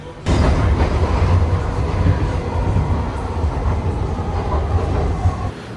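A passenger train runs from Philadelphia back to New York, heard from inside as a loud, steady rumble of wheels and car noise that starts abruptly and continues without pause.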